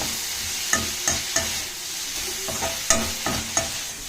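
A spoon stirs sliced onions and peanuts in a pan, with a soft sizzle under repeated scraping strokes. The strokes come at an uneven pace, close by, with no talk.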